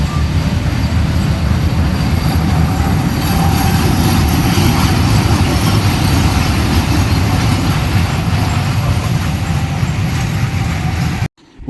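A constant loud rumbling small amusement park train ride at a Perambur exhibition, with a low mechanical drone, steady throughout before cutting off abruptly at the end.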